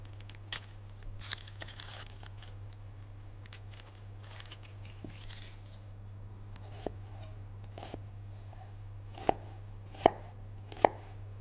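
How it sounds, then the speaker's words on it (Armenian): A knife chops red onion and walnuts finely on a board in sparse, irregular single strikes, a few sharp, louder cuts toward the end, over a steady low hum. "Մանր կտրատում ենք։"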